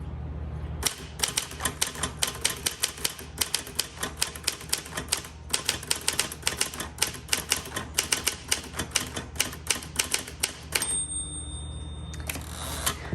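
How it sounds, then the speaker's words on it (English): Steady, rapid typing on a 1959 Smith Corona Galaxie typewriter: crisp, firm keystrokes clatter close up in an even rhythm, with a bright ring of the margin bell near the end before the typing resumes. "Really, really good typewriter. It likes the heavy hand because you do have to press down so far, but it has a really firm keystroke."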